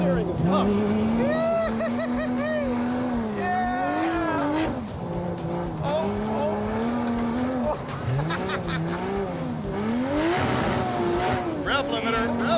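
A Dodge Charger race car engine bounces off its rev limiter, a loud, steady roar whose pitch repeatedly rises and stutters back, with voices faintly underneath.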